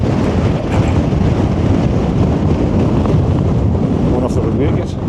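Strong wind buffets an outdoor microphone, a loud, continuous low roar that holds steady throughout with no pauses.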